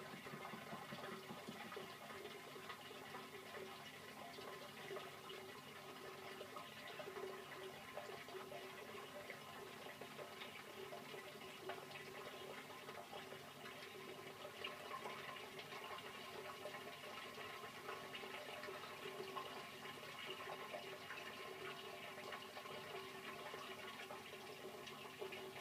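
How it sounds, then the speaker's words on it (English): Water pours steadily into a working pump as it fills, a continuous rushing, gurgling flow that stays constant and fairly close throughout. "you can hear the water pouring into the pump."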